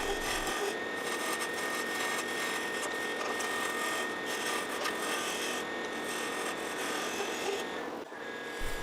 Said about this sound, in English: Here I'm changed to another carbide tool with a more pointed tip to get into the small area